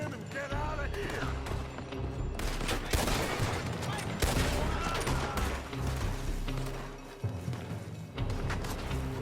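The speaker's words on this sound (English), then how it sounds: "They're shooting from that building!" Dense, sustained gunfire from the video game Red Dead Redemption 2, heavy overlapping volleys and sharp cracks filling the whole stretch with barely a pause, loud and close, with voices mixed in underneath.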